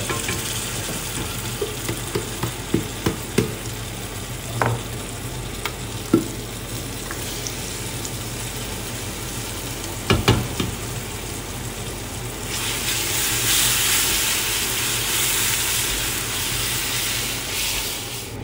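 Ginger garlic paste sizzles and fries in a pot for chicken biryani, a steady close hiss with scattered crackles and pops, swelling louder toward the end.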